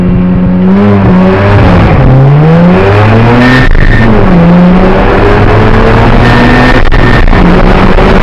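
A Mazda RX-7 FD3S rotary launches hard without launch control, its engine roaring loud and close as the pitch climbs steeply through several quick gear changes, each dropping briefly before rising again.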